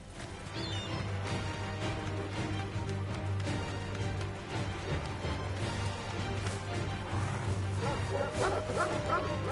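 Dogs in Final Fantasy XVI bark and yip with some whimpering over a steady droning game soundtrack, fairly loud and continuous throughout.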